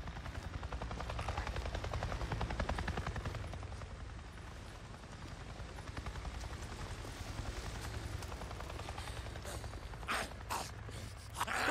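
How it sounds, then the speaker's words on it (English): A helicopter passes low overhead, a continuous buzzing rotor chop that swells and holds for several seconds, then fades slightly as sharper bursts flicker near the end. "It just buzzed right over me and acted like I wasn't even there!"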